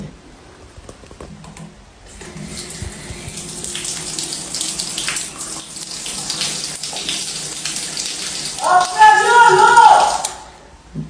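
Shower water running steadily in a home bathroom, a broad hissing spray that builds and grows louder toward the end, with a person talking faintly underneath.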